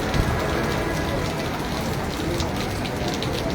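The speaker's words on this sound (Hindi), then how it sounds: "अल्लाह ताला रहम करे बहुत तेज बारिश है हाली भी" Heavy monsoon rain pours down loudly and continuously, a dense roar of drops striking surfaces with no pauses.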